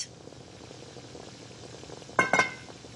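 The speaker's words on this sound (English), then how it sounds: "I boil water in a large pot." Water boils in a large pot as a low, steady bubbling hiss, with a few brief metallic clinks near the end.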